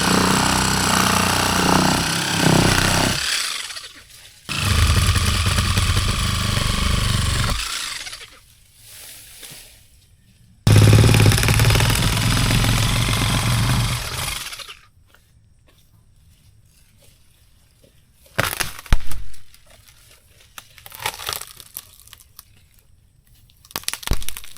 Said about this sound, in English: So Sawzall, not the greatest tool for the job, but we got it done